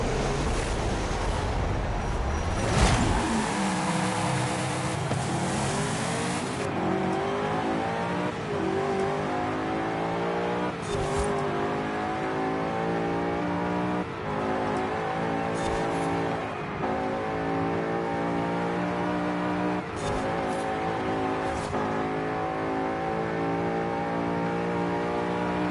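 Race car engines in Forza Horizon 5, a 1969 Pontiac GTO and an American Motors Rebel, rev and accelerate through rising gear changes at a race start. The drone is steady and loud, with sharp shifts breaking it up.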